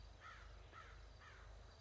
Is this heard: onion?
no